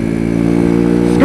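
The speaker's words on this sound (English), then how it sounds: "Nice scooter." A scooter's engine drones close by with a steady buzzing tone, holding level and then swelling slightly at the end in a brief pass.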